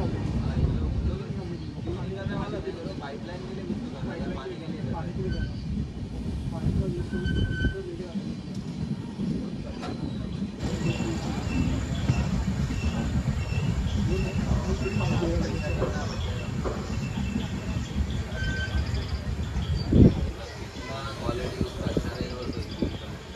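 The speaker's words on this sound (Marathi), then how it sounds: "गाडी हळूहळू पुढे चालली आपली" A Konkan Railway passenger train rolls slowly through Anjani station, its steady low rumble and clatter heard from on board, with wind noise. Someone talks over it throughout, and a brief louder clunk comes near the end.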